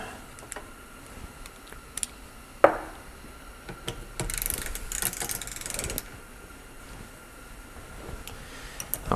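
A wrench loosens half-inch bolts on a 74-year-old Briggs and Stratton engine, giving faint, sparse ratcheting clicks and metallic clinks in a quiet workshop, with one sharper knock.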